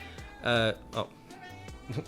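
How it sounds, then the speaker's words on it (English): A pet cat meowing nearby: a clear, drawn-out meow followed by a shorter chirp, with a person talking around it indoors. "She was just meowing at me for something."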